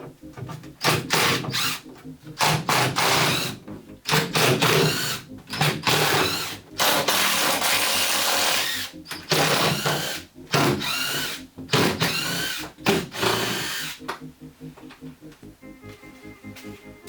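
Power tool working the wing bolts on a Porsche 928: loud bursts of whirring drill noise in quick, uneven bursts with short gaps, close up, ending with quieter rattling.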